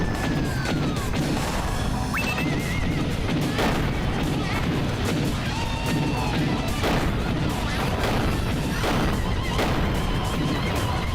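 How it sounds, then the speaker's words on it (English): Artillery fire and crashing impacts in the mech combat game GunGriffon 2, a dense, continuous barrage of booms and smashes with sharp bursts throughout, loud and busy from start to finish. "Artillery over here."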